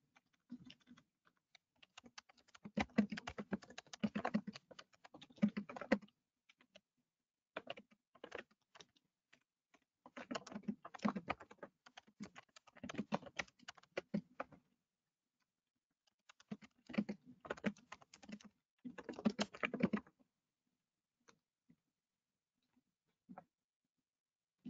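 Someone types a note on a computer keyboard in several bursts of quick, close clattering keystrokes separated by pauses of silence, fairly quiet and alone.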